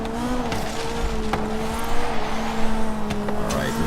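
A BMW M3 E30 race car drifts in Forza Horizon 3, its engine droning loud and steady with a sustained tire squeal running throughout and brief sharper bursts, no voices over it.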